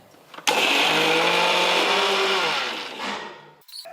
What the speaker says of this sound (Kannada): ಈಗ ಮುಚ್ಚಳ ಮುಚ್ಚಿ ತರಿಯಾಗಿ ರುಬ್ಕೋತೀನಿ ರೀ.